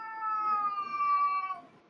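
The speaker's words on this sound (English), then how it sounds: "I see even Fat Cat's complaining about this" A cat meows in one long, drawn-out complaint lasting nearly two seconds, close and clear in a quiet room, trailing off into a brief rustle at the end.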